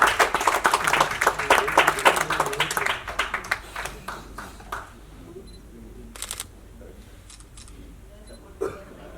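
Audience at an award ceremony for a theatre lifetime achievement honour clapping in fast bursts that thin out and fade to scattered claps over several seconds.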